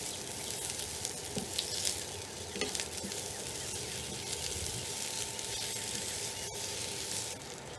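Peppers and onions for fajitas fry steadily in a pan, a dense continuous sizzle with a few soft stirring scrapes, close and even throughout with no voices.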